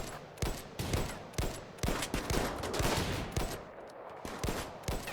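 Gunfire from a firefight in the game RimWorld, repeated sharp shots at irregular intervals, sometimes in quick pairs, over a busy background, moderately loud with no speech.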